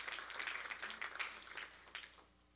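A church congregation applauds, a soft, distant wash of clapping hands with a few scattered voices, fading out toward the end.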